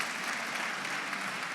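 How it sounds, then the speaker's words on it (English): A crowd at a Black History Month celebration in Gwinnett County gives itself a round of applause, an even, sustained wash of many hands clapping together without a break. "Give yourself a round of applause."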